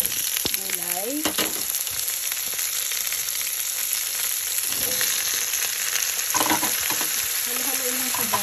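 Vegetables for an egg curry fry in a hot pan with a continuous loud sizzle while being stirred, and the clatter and scrape of the utensil recur throughout.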